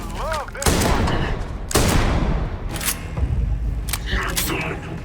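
Rapid bursts of suppressive gunfire in the Starfield video game, loud and close, with heavy booming volleys and sharp cracks mixed over a steady din of combat.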